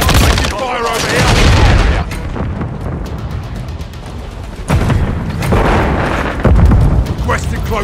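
Grenade blasts and gunfire rumble through a Call of Duty: Modern Warfare III multiplayer Hardpoint match, with heavy booms near the start, middle and end over steady firing, while voices and radio-style announcements talk throughout.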